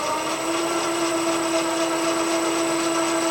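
An electric motor on a balancing rig runs at speed with a steady high-pitched whine and whirring hum, constant and close, with no voices.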